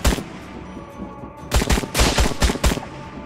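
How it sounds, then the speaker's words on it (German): Gunfire in Trans-Siberian Railway Simulator, a close rapid string of sharp shots in uneven bursts over a low background hum. "die schießen gleich alle"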